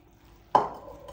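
Sliced courgettes dropped back into a large salad bowl, a single soft clattering thud that fades quickly, close and alone.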